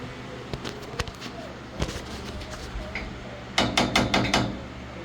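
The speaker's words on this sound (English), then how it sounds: "Let's grab our little hammer." Small hammer tapping while squaring a piece to 90 degrees, a handful of sharp close taps spread through the clip, ending in a quick burst of several strikes, over a low steady hum.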